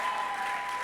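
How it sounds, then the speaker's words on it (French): A church congregation applauds in praise, producing a dense, continuous patter of many hands clapping at moderate loudness with a faint steady tone beneath. "Applaudissez pour lui"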